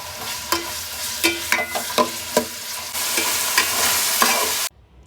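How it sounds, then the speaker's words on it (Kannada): Onion, capsicum, mustard seeds and curry leaves tempering in hot oil for chilli chicken, a steady loud sizzle punctuated by sharp spatula stirs and pops, cutting off abruptly near the end. "ನೆಕ್ಸ್ಟು ಒಗ್ಗರಣೆ ಹಾಕ್ಕೊಳ್ಳಿ. ಆನಿಯನ್, ಕ್ಯಾಪ್ಸಿಕಮ್, ಸಾಸಿವೆ, ಕರಿಬೇವು"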